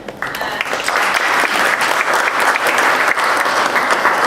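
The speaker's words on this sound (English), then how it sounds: "Please hold your applause." Luncheon audience applauding steadily, a dense, even wash of many hands clapping at close range for several seconds without a break.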